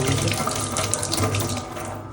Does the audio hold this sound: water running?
yes